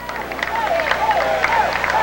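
A football crowd at a 2000 Central vs Wartburg college game rises, cheering and clapping as a steady roar beneath a commentator's voice over a short stretch.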